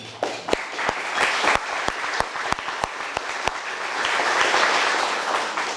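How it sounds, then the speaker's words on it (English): An audience at a county government address claps for officials, with loud close handclaps standing out over a steady bed of crowd applause that swells toward the end. "now we can clap for everybody"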